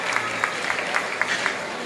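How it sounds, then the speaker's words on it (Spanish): A crowd at a campaign rally closing event claps in a dense continuous wash, with scattered louder claps standing out and a faint voice or two mixed in. "pido un aplauso para recibirla"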